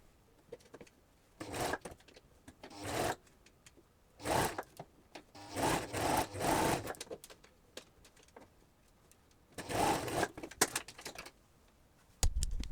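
A sewing machine stitches along a fabric edge, leaving room for elastic, running in several quiet bursts of rapid whirring stitches separated by pauses.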